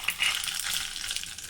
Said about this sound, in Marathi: चिमूटभर मोहरी घालूया,